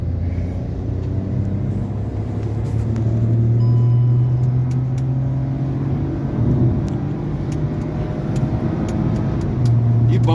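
A car rolls along a bumpy road with a steady low engine hum and road rumble, tyres thudding over uneven patches, heard from inside the cabin, continuous and moderately loud.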